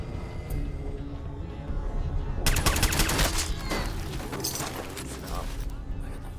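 Rapid pistol gunfire in Fallout, a dense burst of loud shots erupting partway through over game ambience and background music, then continuing in scattered bursts.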